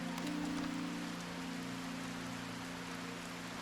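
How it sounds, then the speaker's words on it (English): Rain leaking into a house in the video game The Haunting of Joni Evers, a steady, even hiss of falling water with a faint low hum beneath it, continuous throughout. "We got some rain leaking in the house."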